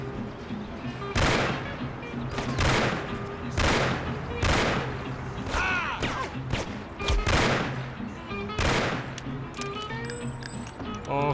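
Repeated gunfire in the Mafia video game, with loud bursts of shots every second or so over a steady game soundscape.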